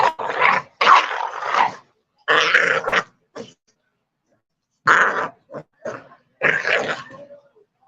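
Two American bully dogs wrestle up close, letting out repeated bursts of rough growls, grunts and snorts separated by short silences.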